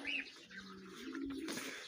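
Soft, low domestic pigeon cooing close by in a loft, a couple of throaty coos in a quiet indoor space with faint chirps.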